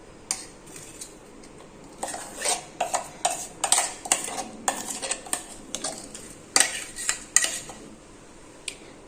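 Cashew-onion paste, coarsely ground rather than smooth, scooped out with a metal spoon into a bowl: a string of sharp, irregular clinks and scrapes of metal against metal, close and fairly loud, with no talking.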